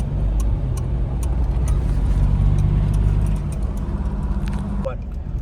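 A car driving on a mountain road toward Shimla, its engine a steady low hum with road rumble throughout, close and continuous, with a brief higher squeal near the end.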